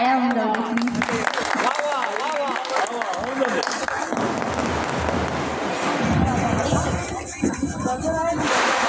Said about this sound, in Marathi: टाळ्या होऊन जाऊ.